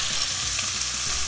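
Beef browning in sesame oil in a hot saucepan gives a steady, close sizzle with crackling and spitting across the whole moment. No one speaks.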